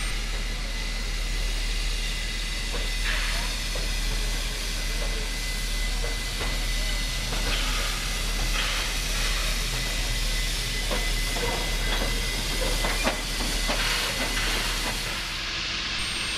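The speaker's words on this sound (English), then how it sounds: "locomotive 3642 is now getting ready for a special train trip to Dungog" Steam locomotive 3642 sits at Sydney Central Station before a special trip to Dungog, giving off a loud, steady hiss of steam under a low rumble, with scattered clanks and bumps throughout.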